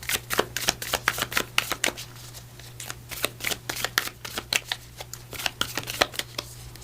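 Oracle cards riffle and shuffle in rapid, crisp bursts of papery flicks, close and steady throughout, with a faint low hum underneath and no talking.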